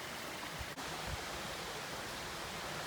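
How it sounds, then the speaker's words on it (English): Little waterfalls on a hiking trail, feeding out to a river, give a steady, full rushing wash of water that fills the scene close by without a break. "little tiny waterfalls"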